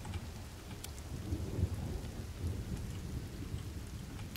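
Rain falls steadily with low rumbling thunder during a thunderstorm in the survival video game The Forest, a dense, continuous wash with no talk.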